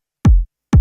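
Melodic techno kick drum programmed in FL Studio, two deep punchy hits about half a second apart, each with a sharp click and a booming low tail, loud and alone.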